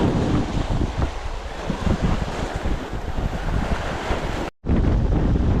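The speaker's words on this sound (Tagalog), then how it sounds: "malakas na yung alon mga master kaya naman ang Hampas ang dagat oh" Strong ocean waves crash and roll on the shore in a steady, loud, wind-buffeted roar that fills the whole stretch, broken by a brief dropout near the end, with no talking.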